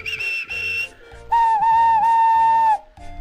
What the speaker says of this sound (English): The engines whistled and called out when they reached the cottage.